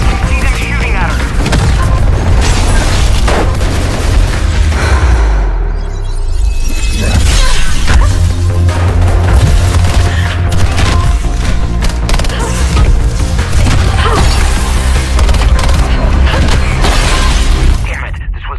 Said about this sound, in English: I can see them shooting at her